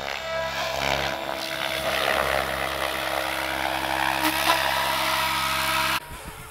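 Large RS7 RC model helicopter flying with a loud, steady rotor and motor whine held throughout, then cutting abruptly near the end.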